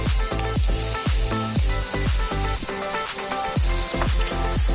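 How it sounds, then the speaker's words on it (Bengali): Chopped onion and bay leaf fry in hot oil, producing a loud, continuous sizzle with a rhythmic series of utensil knocks against the pan. "তেজপাতা দিয়ে দিলাম, পেঁয়াজ কুচিটা ছিল সেটা কিছুটা দিয়ে দিচ্ছি।"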